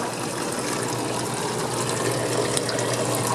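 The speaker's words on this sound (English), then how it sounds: "See, I got the bubbles coming out of both sides of it." Air bubbles stream steadily from a decoration in a fish tank, a continuous soft watery fizz and gurgle close by with no voices.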